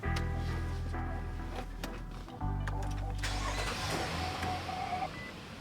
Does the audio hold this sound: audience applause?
no